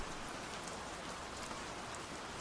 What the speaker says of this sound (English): Doesn't it feel way more like vibey if I have the sound of rain?